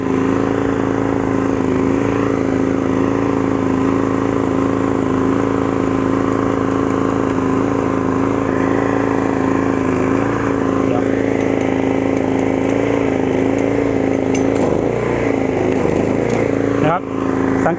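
A 3000 W generator engine running a welding machine drones loud and close with a steady hum, then roughens and wavers near the end as the load comes on, with someone speaking over it throughout.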